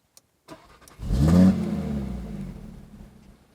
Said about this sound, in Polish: Włącz silnik, włącz silnik.